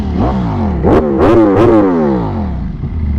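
A motorcycle fitted with a loud aftermarket exhaust revs up hard in three sharp surges, each climbing then falling back to a rumbling idle, close and loud with no talking.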